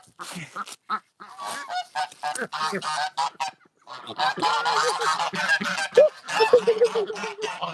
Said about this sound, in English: I can barely hear myself think when the geese come down here